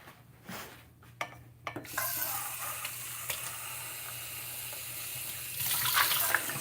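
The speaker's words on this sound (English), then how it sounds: "I'm just gonna rinse out these cans and toss them" Tap water runs steadily into a sink while cans are rinsed out, a soft hiss of flowing water with light knocks and clinks of metal, growing a little louder near the end.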